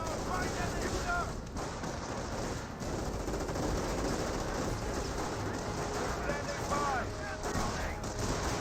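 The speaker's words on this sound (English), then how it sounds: "Snipers gain some good shots there on the Panzer Grenadiers" Sniper rifle shots ring out against Panzer Grenadiers in the Company of Heroes 1 real-time World War II strategy game, one shot after another amid dense, continuous battlefield gunfire and explosions that stay loud throughout.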